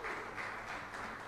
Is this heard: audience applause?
yes